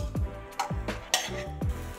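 Vegetables sear in hot olive oil in a pan, a steady sizzle broken by scraping stirs and clinks of a utensil against the pan, close and fairly loud.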